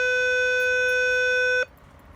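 A Baby Think It Over G6 infant simulator gives one loud, steady electronic beep lasting about a second and a half, then cuts off abruptly to faint room noise.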